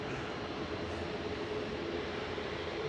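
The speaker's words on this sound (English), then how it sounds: "Sounds like that EasyJet's spooling up." At an airport, an EasyJet airliner's engines spool up while its APU runs, making a steady broadband roar with a faint whine that holds evenly throughout. The sound is distant but continuous, with no voices.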